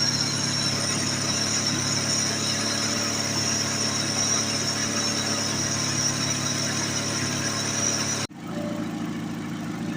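A Chevrolet Aveo 1.5 engine runs steadily at idle after a timing belt replacement, a close, even hum with a whining tone that cuts abruptly near the end before the idle resumes more quietly.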